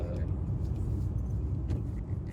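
Steady traffic noise from passing cars, a dense continuous low rumble with a brief louder swell as a vehicle goes by, heard from inside or beside a road with no one speaking.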